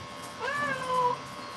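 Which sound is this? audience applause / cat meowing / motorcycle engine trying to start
cat meowing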